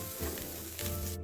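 Small dried shrimp, rinsed and soaked in water beforehand, are stir-fried in a pan, giving a close, steady sizzle with brief stirring scrapes, no voices.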